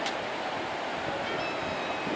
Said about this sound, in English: there's quite a lot of noise from the sea